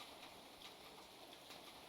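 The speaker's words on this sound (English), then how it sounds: "Oh, and it's raining outside." Rain falling outside in the stealth video game The Dark Mod, a soft, constant hiss of drops with faint scattered patters, quiet and steady with no voices.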